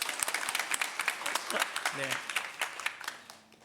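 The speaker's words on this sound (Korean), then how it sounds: "감사의 박수 하겠습니다" A church congregation at a Sunday service claps in thanks for a flower arrangement, brisk scattered clapping that thins out toward the end, with a spoken voice over it.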